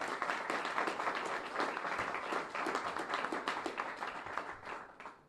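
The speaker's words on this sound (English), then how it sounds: "So big round of applause for the graduate as well." A crowd applauds with dense, sustained clapping that holds steady before tapering off toward the end, heard from within the audience.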